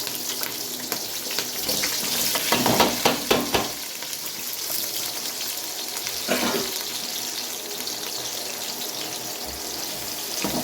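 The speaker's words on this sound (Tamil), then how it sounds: "வெங்காயம் எந்த அளவுக்கு வதக்குறோமோ அப்போ தான் வந்துட்டு பிரியாணி டேஸ்ட்டு கிடைக்கும்." Onions and green chillies sauté in a pan for biryani, a steady close sizzle with bursts of louder crackling and stirring, and no one talks.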